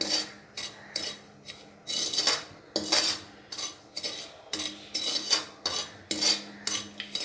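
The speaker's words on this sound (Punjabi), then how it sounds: "ਸੂਜੀ ਹੁਣ ਆਪਣੀ ਭੁੱਜ ਰਹੀ ਹੈ" Semolina roasts dry in a pan without ghee while a metal spoon scrapes and stirs it, giving a repeated rhythm of rasping strokes and clinks that sounds close and clear.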